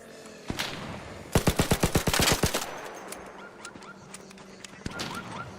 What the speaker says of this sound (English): someone's shooting at it